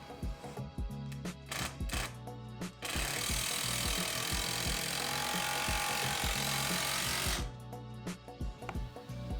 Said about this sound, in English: We'll secure with a 3-inch screw.